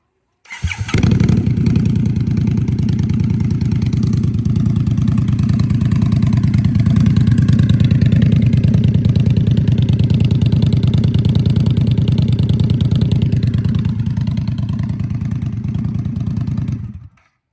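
An Indian Scout Bobber motorcycle, warmed up and fitted with quiet exhaust baffles, starts and idles loudly with a deep, steady rumbling pulse for about fifteen seconds before cutting off.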